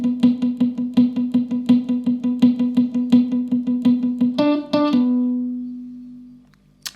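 A guitar plays a palm-muted sixteenth-note pattern, a steady run of short, choppy, closely spaced notes, then a couple of ringing notes that fade into quiet, close and alone without voices.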